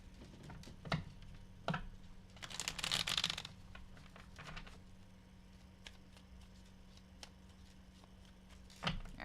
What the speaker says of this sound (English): All right, last shuffle.